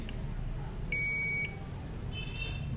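A multimeter in continuity buzzer mode, probing the power circuitry of a Dell Inspiron 14 3421 laptop that will not power on, gives a short high-pitched steady beep of about half a second, faint over a low background hum.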